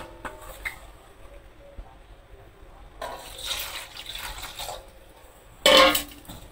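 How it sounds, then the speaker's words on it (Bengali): Fresh tomatoes washed in water, with soft splashing and sloshing close by, swelling into a louder burst of running water near the end. "টমেটো গুলো ধুয়ে নিয়ে দিই"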